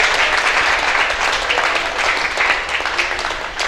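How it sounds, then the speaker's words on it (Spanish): Church congregation at a Sunday service applauding, loud continuous clapping from many hands that holds steady throughout. "denle el aplauso al Señor"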